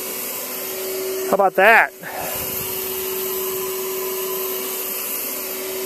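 A vacuum cleaner sucks a length of string through a pipe, its steady whine running loud and close throughout, broken briefly by a short spoken remark.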